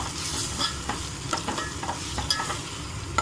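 Egg fried rice with masala is stirred in a pan: a close, steady sizzle punctuated by quick, irregular scrapes and taps of the spatula, with no speech.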